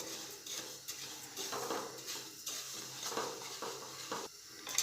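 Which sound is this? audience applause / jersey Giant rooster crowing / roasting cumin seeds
roasting cumin seeds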